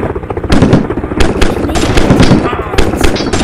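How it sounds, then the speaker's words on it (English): Rapid, dense gunfire from pistol troops in an army battle video game pops and crackles continuously at high volume, with a player talking over the noise. "Because the pistol men can just, like, shoot at them."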